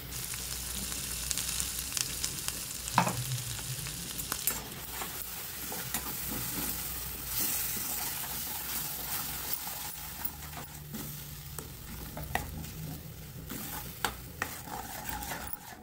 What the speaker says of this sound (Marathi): सगळे सुके मसाले टाकल्यानंतर पण आपण छान असं भाजून घेऊ